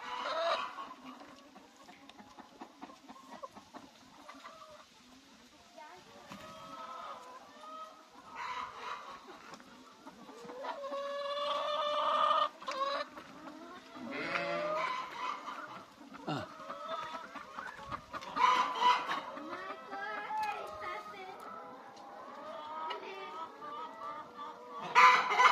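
A yard of chickens clucks and squawks at close range, with roosters crowing repeatedly among them, loud and irregular throughout.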